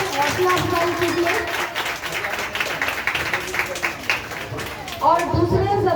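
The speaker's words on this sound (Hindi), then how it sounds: "जोरदार तालियों से हौसला अफजाई कीजिए" Hands clap in applause at an anniversary ceremony honouring members, a moderate round of clapping running beneath a voice speaking over it.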